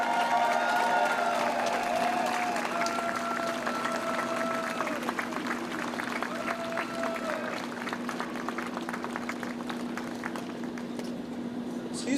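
Crowd applause at an outdoor Boston rally marking a 1965 freedom rally anniversary, a steady wash of clapping from a large audience that carries on for several seconds with a faint tone and some voices underneath.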